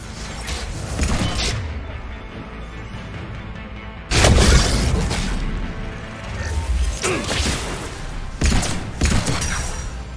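Sharp, loud pistol shots ring out in bursts during Mass Effect 3 combat, with heavy impacts and crashing debris between them amid a busy, reverberant battle mix.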